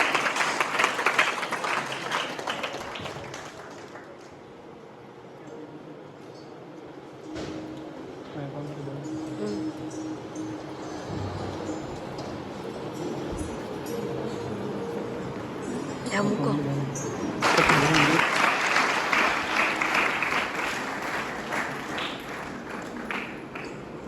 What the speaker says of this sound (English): Give a huge round of applause for her